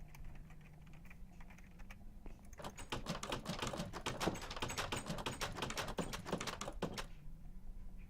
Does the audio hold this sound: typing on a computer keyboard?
yes